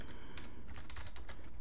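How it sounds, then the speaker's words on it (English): Fast, uneven typing on a computer keyboard, close and fairly quiet, with a rapid burst of key clicks over a steady background hiss. "Boy, I suck at typing."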